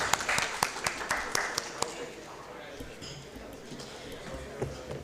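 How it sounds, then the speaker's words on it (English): Applause from an audience at a medical conference, a handful of distinct claps in the first two seconds that thin out quickly, leaving low murmuring and scattered faint sounds. "Ladies and gentlemen, can we have a round of applause for Professor Wajahat Aziz?"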